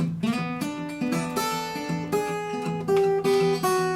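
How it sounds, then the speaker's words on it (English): Acoustic guitar hammered with a thumb pick in hard percussive strums, thumping chord hits in a steady driving rhythm, loud and close, no voices. "just pounding the heck out of the guitar"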